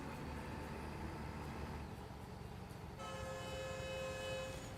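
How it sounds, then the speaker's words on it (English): A train horn in American Truck Simulator sounds as a sustained tonal blast. It starts about three seconds in and carries on to the end over steady engine and road rumble, faint and distant. "That train noise startled me."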